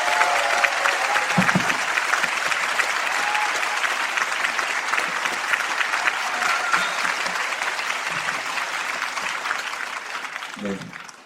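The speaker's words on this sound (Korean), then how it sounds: "큰 박수로 맞이해 주시길 부탁드리겠습니다." An audience in a lecture hall breaks into sustained applause to welcome a psychology professor on stage, dense steady clapping filling the room for about ten seconds before tapering off at the end.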